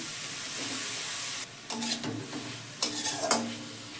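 Capsicum, carrot and tomato hit a hot pan with hing and set off a strong, bright hiss, then stirring brings uneven bursts of sizzle and scraping up close.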